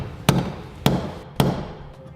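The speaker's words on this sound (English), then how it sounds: "use our center punch to mark the bed and put a little indentation" Three sharp metallic strikes of a hammer on a center punch, marking the steel bed of a Ram truck for a Curt custom fifth wheel installation kit, evenly spaced about half a second apart and each ringing out briefly.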